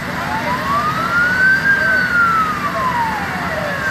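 A fire engine siren wails loudly nearby at a school fire, its pitch rising and falling in one long sweep over the drone of traffic.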